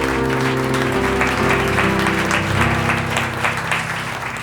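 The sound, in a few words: audience applause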